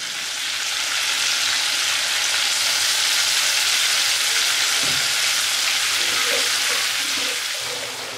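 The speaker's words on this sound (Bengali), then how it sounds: "চিংড়ি মাছটা আগে ভাজি" Shrimp frying in a pan, a loud steady hiss and crackle of hot oil that holds for several seconds before easing off, with a few faint clinks near the end.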